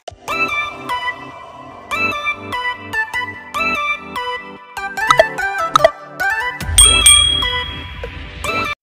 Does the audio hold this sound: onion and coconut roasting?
no